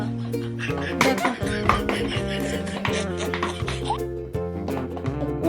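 A dog chews and bites at a plastic bottle cap, giving scattered clicks, crackles and crunches of plastic in an irregular close-up rhythm, with clattery hard knocks mixed in.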